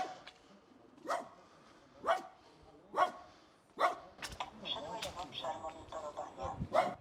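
A dog barks at a steady rhythm, roughly once a second, in five or six distinct, fairly close barks, with quieter movement and background noise between them and a busier stretch near the end.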